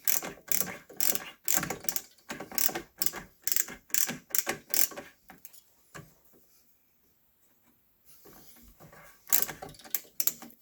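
A screwdriver turns the mounting screws of a CPU tower cooler with a rapid, close ratcheting click in repeated bursts, pausing for a few seconds midway before a few final clicks.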